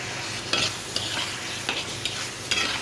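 Tomatoes and green chillies hit hot spiced oil, raising a steady sizzle broken by several sharp stirring scrapes at irregular intervals, close and with nobody speaking.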